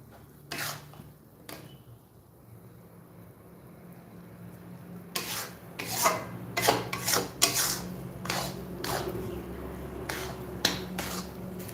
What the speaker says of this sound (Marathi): हे म्हणजे बघा सारखं असं व्यवस्थित मिश्रण असं हलवून हलवून परतून घ्यायचं आहे